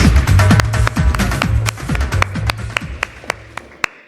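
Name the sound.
audience applause at awards ceremony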